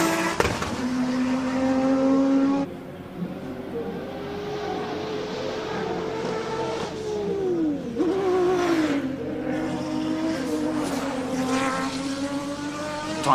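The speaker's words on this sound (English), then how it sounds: "Unbelievable launch, but listen to this car." An Audi S4 race car's engine screams as it accelerates at a hillclimb event, rising through gears with sharp shifts, loud and close, then fading and revving again.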